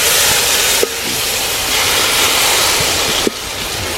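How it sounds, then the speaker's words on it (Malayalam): About half a cup of water hits a hot pan of green chili and ginger paste for a village-style clam fry, setting off a loud, steady sizzling hiss with two brief breaks, no talking. "ഒരു അരക്കപ്പ് വെള്ളം മാത്രമേ ഒഴിച്ചു കൊടുത്തിട്ടുള്ളൂ"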